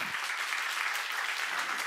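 A church congregation clapping during a seminar sermon, a continuous, even roar of many hands at steady volume, with no speech rising above it.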